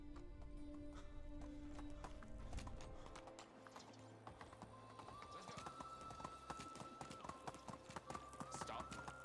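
Horse hooves clip-clop at a steady run across the ground in the medieval survival game Medieval Dynasty, with a brief whinny, game ambience and tonal music layered underneath, and a voice talking over it.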